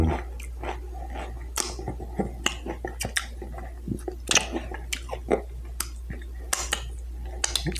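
Crunchy Doritos chips being chewed up close during a mukbang meal, with repeated sharp crackling bites and munching in an irregular rhythm, loud and close with no talking.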